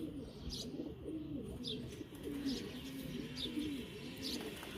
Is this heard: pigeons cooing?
yes